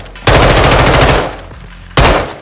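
Gunfire in the video game Call of Duty: Modern Warfare II, two loud, close bursts of rapid automatic fire, a long one followed by a short one after a brief pause.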